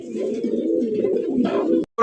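A low, rolling coo from a male pigeon runs steadily for nearly two seconds, close and fairly clear, ending in a brief break and a short burst.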